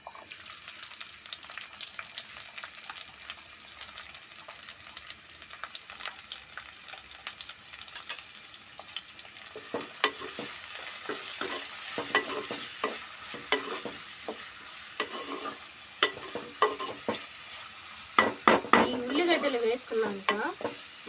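Three chopped medium onions fry in hot oil, starting as a quiet steady sizzle, then louder, busier crackling and repeated scraping and clattering of a spoon stirring them in the pan, with no talk.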